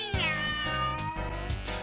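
A cat's meow rings out over a Halloween song, a long wavering cry under harmonic music with steady beats, the meow standing out near the start.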